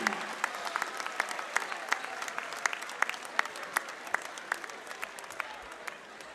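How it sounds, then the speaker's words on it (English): A gym crowd claps for five basketball seniors and their families at a men's senior night game against Beaverton. The applause is steady and moderately distant, with no voices over it. "Once again, a round of applause and a big thank you to our 5 seniors"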